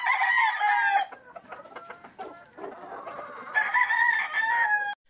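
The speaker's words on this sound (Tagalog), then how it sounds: "Mailap nga itong tornado hatch brood hen, kaya pag pinapaluhod ni J. Fern ay hinuhuli pa namin" A tornado hatch brood hen clucks loudly and close in bursts at the start and end, with quieter clucks and chicken calls in between.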